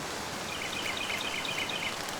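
Cartoon rain pours in a continuous, even hiss, with faint high chirping notes flickering through it for a couple of seconds.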